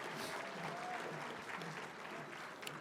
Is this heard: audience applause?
yes